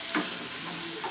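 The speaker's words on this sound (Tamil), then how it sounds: "நல்லா ஃப்ரை பண்ணிக்கணும்" Chopped tomatoes fry in a pan for egg chutney, giving a brief, steady hiss of sizzling oil with a soft scrape of stirring near the start.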